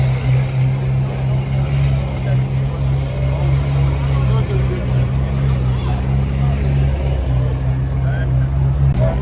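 A McLaren 720S drives past at a crowded car meet, its steady engine drone loud and continuous with strong low rumble throughout, while people talk nearby.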